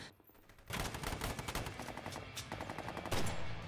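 Dense battle gunfire from the film The Marine 4, a sniper's shots mixed with rapid automatic bursts, rattling continuously and fairly faint, with a louder volley near the end and no voices.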